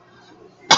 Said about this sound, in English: the minute I hit record, I start bloody coughing